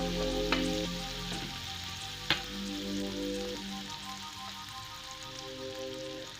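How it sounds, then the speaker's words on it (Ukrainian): Soft, steady sizzling and crackling from butter in a hot frying pan, with a few sharp pops and clicks breaking through the frying hiss. "На розігріту сковорідку я викладаю 10 грамів масла."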